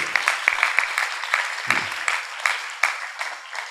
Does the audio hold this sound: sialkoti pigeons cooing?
no